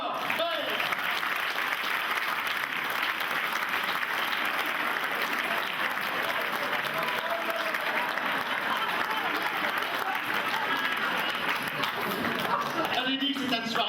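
A theater audience applauds loudly as the act Nénès et les Nénettes is introduced, a dense, continuous wash of clapping and crowd noise that stays full and even for about fourteen seconds.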